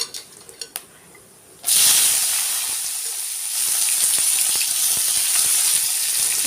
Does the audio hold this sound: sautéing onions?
yes